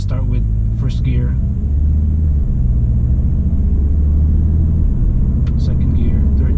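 A tuned car with a Stage 1 EQT tune and DSG gearbox pulls away in first gear, its engine a steady loud low rumble filling the cabin throughout, with no talk over it.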